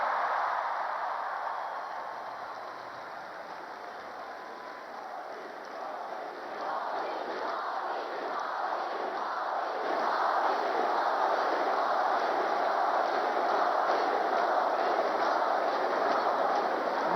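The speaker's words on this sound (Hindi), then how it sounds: "ये मोदी मोदी की गूंज आज भारत में नहीं, दुनिया के कोने कोने में है" Large crowd at a political rally in Nashik addressed by Anurag Thakur, cheering and chanting Modi's name: a sustained, dense roar of many voices that swells louder partway through and keeps going, with rhythmic chanting pulses.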